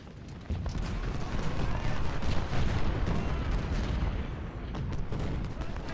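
Artillery cannons in a strategy video game mod fire in a dense, continuous barrage of booming shots, loud and rolling throughout with little pause.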